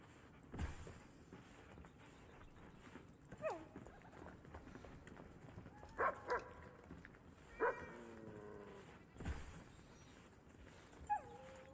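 A dog in the video game Enshrouded barks and whimpers in several short, separate yelps over several seconds, moderately close, with soft thuds and game ambience between them and occasional speech.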